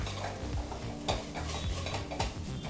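Mutton masala powder and turmeric stirred in a hot pan, a steady sizzling bed with repeated scraping strokes of a spoon against the pan, close and continuous, no voices.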